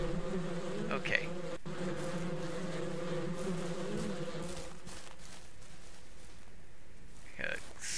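Bees buzzing around a hive in the video game Ranch Simulator, a steady droning hum that holds for several seconds, then thins out, with a few faint clicks and footstep-like noises.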